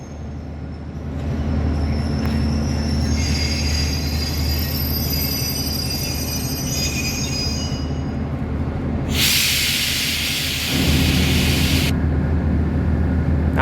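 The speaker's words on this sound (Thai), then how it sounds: "ก็เข้าเทียบชานชลาที่ 5 นะ ครับ สถานีรถไฟกรุงเทพหัวลำโพง" A train rumbles slowly into platform 5 at Bangkok's Hua Lamphong station, with screeching wheel squeals and a burst of hissing air, heavy and close throughout.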